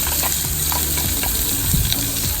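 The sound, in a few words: sliced onions frying in the biryani pot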